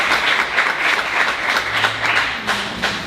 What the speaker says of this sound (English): Let's applaud to that,